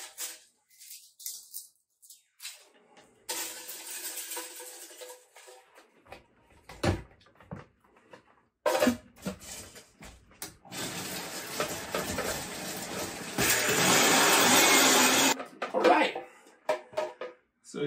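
Dried bull kelp seaweed ground into a fine powder during a cooking demonstration, heard as bursts of loud, coarse whirring and grinding with pauses between them.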